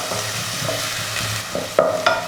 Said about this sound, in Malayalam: ഇനി നമുക്ക് ഇതിനകത്തോട്ട് അരിഞ്ഞു വെച്ചിരിക്കുന്ന സവോളയും പച്ചമുളകും ചേർത്ത് കൊടുക്കാം. ഇത് നന്നായിട്ടൊന്ന് വഴറ്റി കൊടുക്കുക.